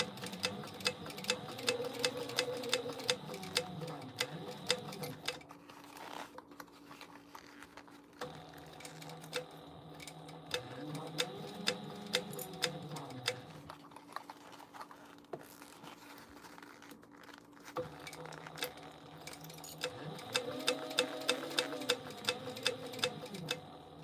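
A sewing machine stitches a quarter-inch seam allowance, running in three separate humming bursts with pauses between, fairly quiet and steady with a fine rapid ticking.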